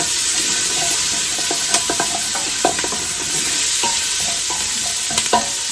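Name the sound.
bacon and onion frying in a pan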